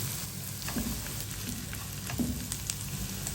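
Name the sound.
onion and garlic frying in pan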